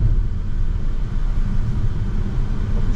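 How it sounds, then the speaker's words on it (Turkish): Hyundai Ioniq 6 sedan accelerating on the road, with a steady low rumble of tyre and road noise inside the cabin, continuous and fairly loud with no voices. "Şu an hızlanıyoruz."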